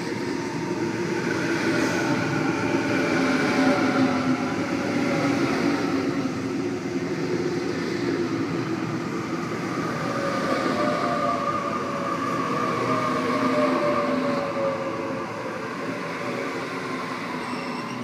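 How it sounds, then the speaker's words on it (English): A Sydney Trains Waratah electric train pulls out of Quakers Hill station at night, with a loud, steady rumble of motors and rolling wheels that stays close throughout and has no speech over it. "A50 is now departing for a Richmond service, stopping Schofields, Riverstone, Vineyard, Mulgrave, Windsor, Clarendon, East Richmond and Richmond."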